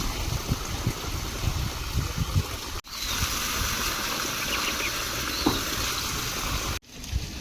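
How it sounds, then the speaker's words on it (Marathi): Borewell water gushing steadily at a farmhouse during cleaning, a continuous broadband rush that holds a constant level and is briefly cut twice. "बोरचं पाणी चालू केलंय"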